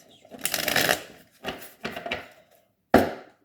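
Oracle tarot cards are shuffled in a few separate bursts of soft riffling and flicking, close up and alone, with brief pauses between them and a sharp final snap.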